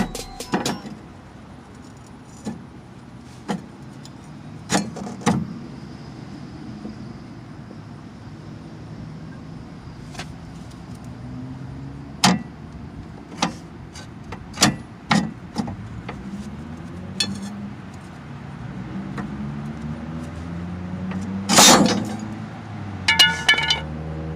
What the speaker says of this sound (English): I'm using a large pry bar to help me remove the spring